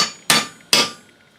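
Two sharp hammer taps strike a leg vise part to seat it in place on a woodworking bench. The taps are evenly spaced and close, and each has a brief ringing decay.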